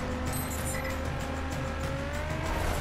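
A car engine in a racing video game drones steadily with rising pitch as it accelerates, mixed with tire noise, continuous and fairly loud with no voices.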